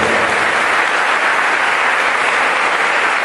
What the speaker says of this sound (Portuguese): Quem tem essa esperança, aplauda ao Senhor Jesus Cristo.